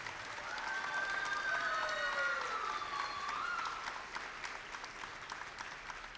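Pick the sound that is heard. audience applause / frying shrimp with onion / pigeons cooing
audience applause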